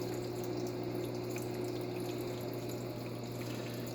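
Aquarium pump pushes water over rock in a red clawed crab tank, a steady close trickling splash with a low pump hum underneath and no talking.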